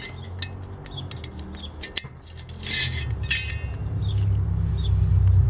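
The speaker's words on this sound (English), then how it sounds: "We can dismantle the windshield." Metal parts of a Trangia camping stove windshield being taken apart, with a few light clinks and taps of thin metal over a low background rumble.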